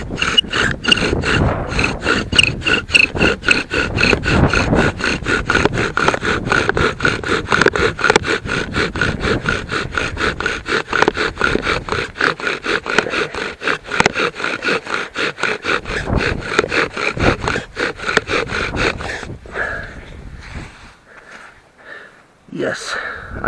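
Rapid rhythmic back-and-forth rasping of a wooden bow drill spindle grinding into a fireboard outdoors for friction fire, loud and continuous for about twenty seconds before stopping, with a few soft breaths and scrapes after.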